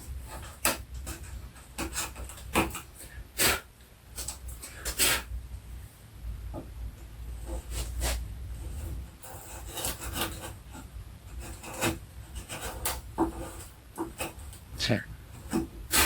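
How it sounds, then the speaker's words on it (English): Chisel work on wood for a cross half lap joint, with the piece held in a vise: repeated sharp striking and scraping strokes in an irregular rhythm, close and moderately loud, with some talk around it. "Both hands behind the chisel."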